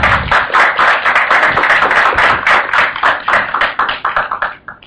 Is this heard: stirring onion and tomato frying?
no